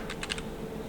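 A few quick, light keystrokes on a computer keyboard as a command is typed, faint and close, with no talk.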